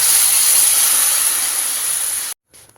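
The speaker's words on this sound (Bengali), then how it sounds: "এবার আমি এর মধ্যে জল দিয়ে দেবো" Water poured into a hot pan of frying potato, cauliflower and tomato sets off a loud, steady sizzling hiss that stops abruptly, leaving near silence.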